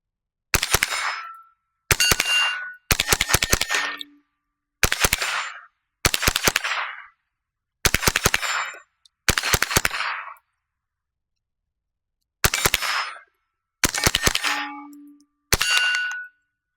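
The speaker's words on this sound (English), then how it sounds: "Another 25 rounds down the range with my Smith & Wesson M&P AR-15 10/22 Sports." Suppressed .22LR rifle shots from a Smith & Wesson M&P 15-22 Sport fitted with a CMMG suppressor at an outdoor range: about ten sharp, close cracks, each trailed by a short metallic ring, spaced unevenly with clean silence between.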